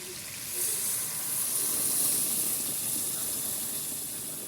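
Boiling water poured into a pot of seasoned boiled chicken thighs makes a steady, bright hiss and sizzle that swells in after a moment and holds, close and fairly loud.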